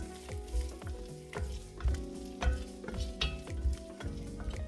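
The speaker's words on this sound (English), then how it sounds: "So we're gonna just let these saute together for a few minutes." Vegetables with potato sauté in a pot on the stove, a steady sizzle running under repeated scraping stirs, loud and close, with no voices.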